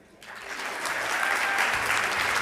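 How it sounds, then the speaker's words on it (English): An audience at an annual meeting plenary session applauds the award winners of a pitch competition, clapping that swells after a quiet start and then holds steady and full. "a round of applause for all of today's winners and our participants"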